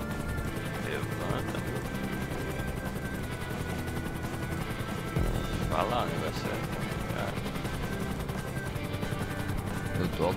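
Helicopter in GTA V Online during a racing mode: a steady whirring rotor drone with a high buzzing whine runs continuously, with faint gunfire-like pops and a player talking over it.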